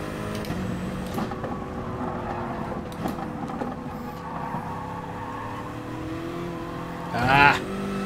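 Race car engine and tyres in the Gran Turismo Sport video game, a steady engine drone running throughout with a brief louder surge near the end.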